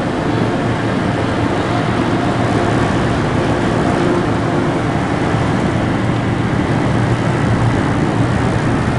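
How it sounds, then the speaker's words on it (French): Airplane taking off close by near Virginia Beach, a steady loud broadband engine roar holding for several seconds without pause, no voices over it. "Hey, puis il y en a des avions"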